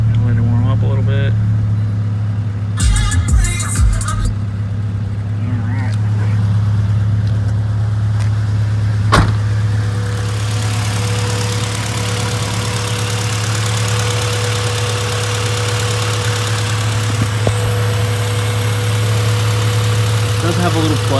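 A Honda Civic Si with a B16 engine idles steadily while warming up after its first startup, a loud, constant low hum running throughout with a few brief clicks and knocks early on.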